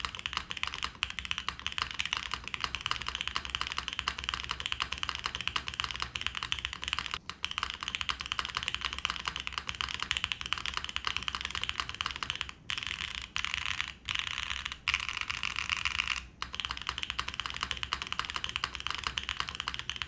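Rapid typing on a Neo80 mechanical keyboard with an O-ring mount, a dense, steady stream of close clacky keystrokes with a few brief pauses, heard alone.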